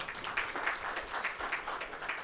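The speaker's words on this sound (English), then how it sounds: "please, a round of applause for them" Audience applause for sponsors at a product launch event in a hotel, steady moderate clapping throughout, slightly distant with no talking over it.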